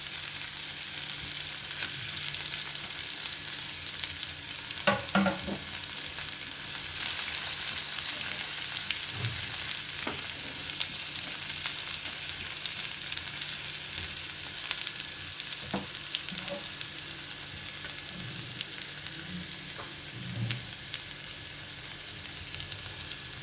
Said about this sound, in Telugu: క్యారెట్ వేస్తున్నాను